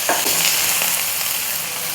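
Okra frying in a pan for sambar gives a loud, steady sizzle with a few brief stirring scrapes near the start, running unbroken and alone with no voices.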